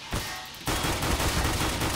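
Dual Berettas fire in Counter-Strike: Global Offensive. A brief burst is followed by a dense, rapid string of pistol shots, loud and close, with no voices.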